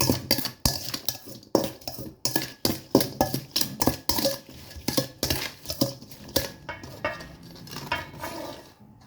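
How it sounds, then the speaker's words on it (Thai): A utensil stirs and scrapes around a bowl while mixing the dressing and ingredients for a Thai spicy seafood and mango salad, with repeated rhythmic clinks and scrapes close up and no talking. "คนให้ทุกอย่างเข้ากันให้ละลายก่อนนะคะ"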